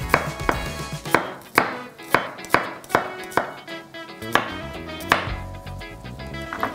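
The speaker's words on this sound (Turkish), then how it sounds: "Bir tane soğanımı şöyle piyazlık gibi ince ince kıyıyorum." A knife finely slices an onion on a board, giving about a dozen crisp, close chops in an uneven rhythm with brief gaps between cuts.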